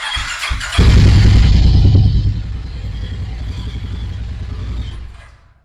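A 2024 Harley-Davidson X440 motorcycle with about 7,000 km on it starts up nearby with a loud crank and catch, then settles into a steady, throaty idle that fades out near the end.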